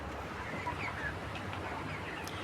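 Broiler chickens, 31 days old, in a poultry farm shed on a hot day, making faint scattered chirps and soft clucks over a low background hum.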